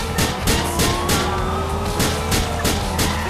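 Car engine in GTA 4 driving steadily and loudly, with a continuous drone, rising whine and rhythmic bursts, a police siren faintly audible in the mix.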